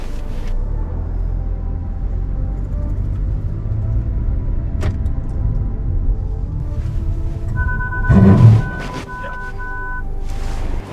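Kia Seltos facelift SUV performing an automatic emergency braking test toward a mannequin on a test rig, with steady cabin road rumble, a brief thump of braking, and a repeating electronic warning beep near the end.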